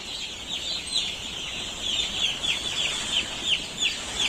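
Poultry chicks in a round brooding area chirp continuously, a dense chorus of high, rapid peeps from many birds close by, with a low background rumble and no talking.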